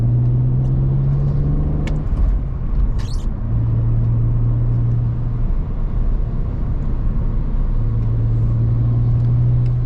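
BMW E46 car driving, a steady close engine drone with road rumble inside the cabin, the note rising and falling in long sustained stretches.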